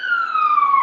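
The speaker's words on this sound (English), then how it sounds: "Here comes Da Siren." A single siren sound effect wails steadily and loudly with a slowly falling pitch, alone with no talk over it.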